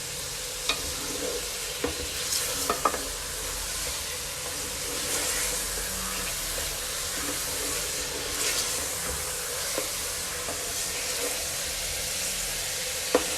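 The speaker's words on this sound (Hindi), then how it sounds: "तेल में ज़रा सा फ्राई करना है।" Chicken pieces fry in oil in a karahi with a constant close sizzle, broken by repeated stirring scrapes and clinks of a spoon against the pan, no talking.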